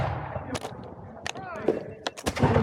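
Several sharp, loud musket or rifle shots crack out one after another during a historical battle reenactment skirmish, with shouting voices between the reports.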